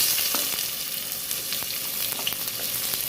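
Two long-sliced onions frying in coconut oil in a cooker, a soft continuous sizzle with faint crackles and occasional stirring, close and without talk.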